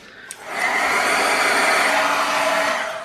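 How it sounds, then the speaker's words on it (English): A heat gun blows steadily and loudly to dry paint on a mixed media canvas, starting after a soft click and holding a constant whooshing roar for about three seconds. "now what I'm going to do is I'm going to zap it with my heat gun"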